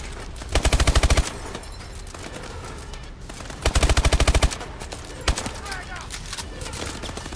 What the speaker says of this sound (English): Who the fuck's shooting from over here?